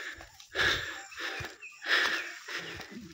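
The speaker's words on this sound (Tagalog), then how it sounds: "Kita yung hingal ko." Heavy, labored panting from someone climbing a steep, slippery mountain trail outdoors. Breaths come in loud, rhythmic bursts about every second and a half, close to the microphone, with no speech.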